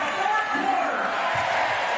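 Sellout crowd at Carver Hawkeye Arena during an Iowa women's basketball game, a steady roaring cheer with a broad, even crowd noise throughout.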